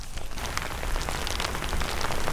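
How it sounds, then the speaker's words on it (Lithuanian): Steady rain patters on surfaces during a four-day bicycle trip through Aukštaitija National Park in Lithuania, a dense, continuous hiss of drops with no voices, close and fairly loud throughout. "nes dabar įsilieja lietus"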